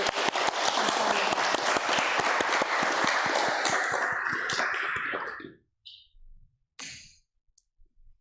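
A congregation at a Sunday Buddhist service gives a big round of applause, dense clapping for several seconds that fades out, followed by near silence and a brief soft burst.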